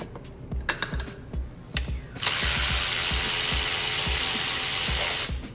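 A ratchet removes valve cover bolts on a 2015 Hyundai Sonata: close, rhythmic clicking strokes come first, then a steady loud whirring rush runs for about three seconds before stopping.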